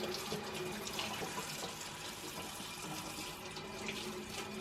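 Running tap water pours steadily over freshly dyed yarn being rinsed in a sink, a constant close splashing rush with no voices.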